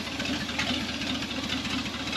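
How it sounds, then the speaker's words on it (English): A 1978 Chevy K10 4x4 square-body truck idling, its engine giving a steady low rumble with a faint knocking pulse, fairly quiet and unbroken, no talk. "We're gonna let it idle a little bit"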